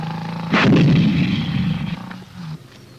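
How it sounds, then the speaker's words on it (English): A tank cannon fires a single loud, close covering-fire shot, a sharp blast followed by a rolling rumble that fades over a couple of seconds. "The tanks give covering fire."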